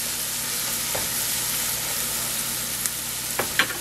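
Cauliflower fried rice with Himalayan salt sizzles steadily in a hot pan, with a few sharp scraping stirs near the end.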